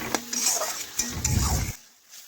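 Cumin and mustard paste being stirred and fried in a pan for a fish curry, with a busy scraping, sizzling clatter of a spoon against the pan that cuts off abruptly near the end.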